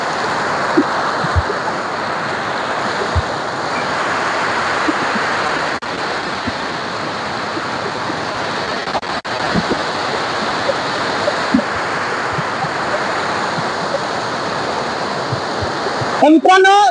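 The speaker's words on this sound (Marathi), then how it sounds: "खळखळत वाहणारं सिद्धेश्वर धरण एकदम नक्की अनुभवा" Water rushes through the Siddheshwar dam after heavy rain, a broad, steady roar that fills the whole scene, with a few light knocks and a brief handling rustle at the end.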